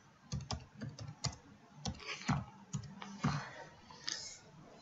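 Typing a map name on a computer keyboard in QGIS mapping software, a series of close, irregular key clicks with short gaps, no speech.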